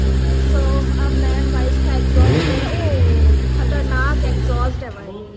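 Kawasaki ZX10R 1000 cc superbike engine revving close by, a loud steady rumble with a rising surge of throttle midway, running continuously under excited talk before cutting off at the end.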